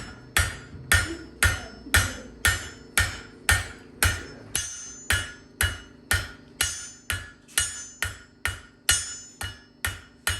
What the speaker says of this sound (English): Kind of a hammer at an angle.